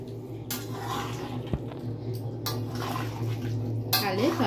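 Chopped coriander being stirred into a vegetarian chhana kofta curry in a pan, a spoon clinking and scraping against the metal in a few distinct strokes while a voice talks over it.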